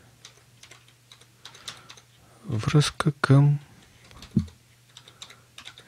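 Computer keyboard keys click in quick, light taps while someone types HTML link text. The typing is heard before and after a short stretch of speech.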